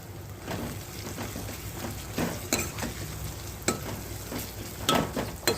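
Leftover spice masala tipped into a hot pan of green pigeon pea and aubergine curry, giving a steady close sizzle with scattered stirring clicks and scrapes, no talk.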